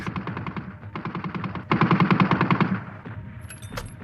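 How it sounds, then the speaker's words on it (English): Battlefield machine gun fire, as used at the Battle of the Somme, rattles in rapid sustained bursts, loud and close, with a short break before a heavier stretch of firing. "the lethal power of the weaponry in use on the Somme, above all, the machine gun"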